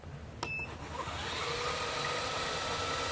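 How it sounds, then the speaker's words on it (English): A G0704 CNC mill's motor starts with a click and spins up through its belt drive to a steady, rising whine and hum that holds to the end. "So if I start up the motor"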